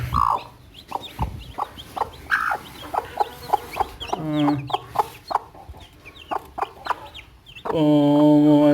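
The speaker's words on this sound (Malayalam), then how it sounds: "കുഞ്ഞുങ്ങളെ നന്നായിട്ട് സംരക്ഷിക്കുന്ന കോഴിയാണ്" A native hen clucks repeatedly in short, rhythmic bursts close by, with soft peeping of newly hatched chicks, ending in a louder drawn-out squawk.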